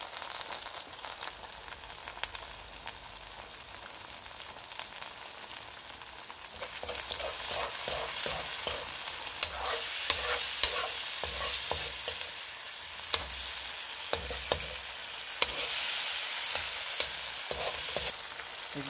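Vegetables stir-frying in a pan with sriracha, a quiet sizzle that grows louder and denser partway through, broken by sharp crackles and scraping stirs.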